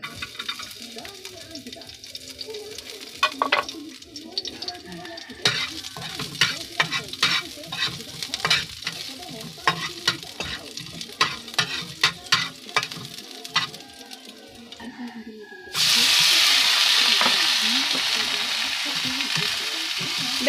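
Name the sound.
sautéing frog with garlic and onion in oil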